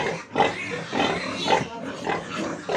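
Pregnant sows on a farm grunt close by in a quick series of short, repeated oinks, about two per second, with no talking.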